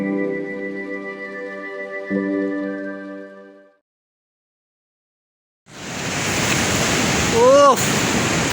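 Surf surges in steadily at Varkala beach in Kerala, a loud broad wash of breaking waves with wind noise, following a sustained tonal passage and a brief silence.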